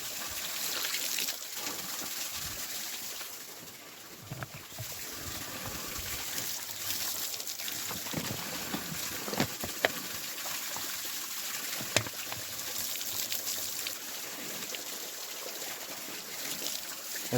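Mineral water trickles softly from a spring in the Kursk region outdoors, a faint, steady babble with occasional small splashes.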